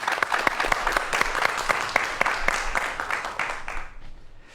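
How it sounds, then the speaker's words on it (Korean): A studio audience at a televised science lecture on cybersecurity gives hearty applause, crisp close claps packed densely together before the sound thins and fades out at the end. "이 부분을 큰 박수로 청해 보도록 하겠습니다"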